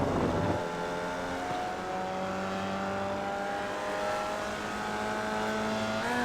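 A Formula Vee race car engine in the iRacing sim at Winton National, steadily accelerating with a rising, buzzy harmonic drone after a brief lower-pitched start, loud and continuous throughout with no voices.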